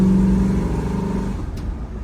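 A 1967 Chevrolet Camaro with a 427 V8 rumbles with a steady, deep engine note that swells slightly, close and loud, with no talking.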